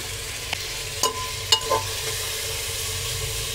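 Cauliflower, tomatoes and mixed vegetables frying in a pan for masala khichdi, a steady soft sizzle with a few light clinks and scrapes of a spoon stirring, close and fairly quiet.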